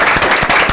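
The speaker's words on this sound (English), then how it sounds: "So whenever round of applause." A school meeting audience breaks into applause, steady dense clapping filling the short moment with no voices over it.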